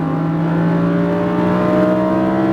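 A Lamborghini Huracan accelerates on a track, its loud engine holding a continuous rising drone from inside the cabin, pulling steadily through the gear without a break.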